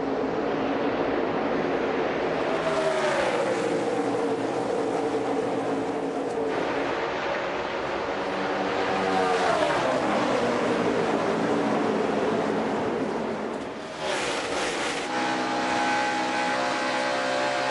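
NASCAR Cup Series stock cars at the start of the Coca-Cola 600 roar past in a dense, loud wash of engine noise, with several rising and falling sweeps as packs of cars pass.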